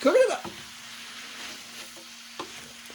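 Vegetables stir-frying in a pan for bami goreng give a broad, steady sizzle, with a louder burst of scraping and frying at the start and a few short stirring knocks later.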